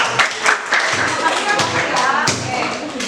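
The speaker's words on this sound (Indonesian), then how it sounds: "Oke, tepuk tangan dulu untuk" A classroom group applauds, giving quick, irregular claps and taps at close range that come in short, uneven bursts across a few seconds.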